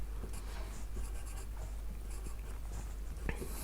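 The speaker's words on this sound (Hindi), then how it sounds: "यहाँ पर हम इस डायरेक्शन में लिखेंगे 1 2 3 4 5 6" Numbers written by hand on an engineering drawing sheet while marking a plain scale: close, scratchy strokes in short bursts over a steady background hiss.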